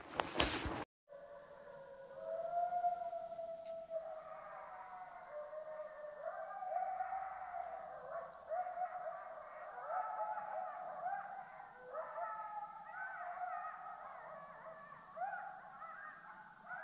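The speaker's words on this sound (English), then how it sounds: "the coyotes are carrying on this morning" Coyotes yip and howl together in the early morning during a spring turkey hunt, a long, wavering chorus of rising and falling cries from some distance, continuing throughout after a brief noise at the start.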